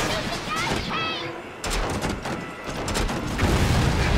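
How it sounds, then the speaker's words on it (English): Gunfire and a blast as a gas tank is shot and explodes during a frantic Resident Evil 6 boss fight, dense bursts of shots and booms running loud throughout, with a voice talking over the action. "Shoot the gas tank!"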